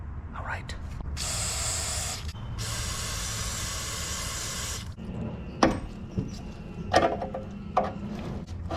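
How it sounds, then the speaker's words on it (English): Penetrating oil sprayed onto a rusty brake hose on a 1976 Chevy LUV, two long steady hissing bursts close up, followed by scattered clicks and clanks of metal work with faint background noise. "I'm gonna go ahead and hit it with some Get 'em Loose juice"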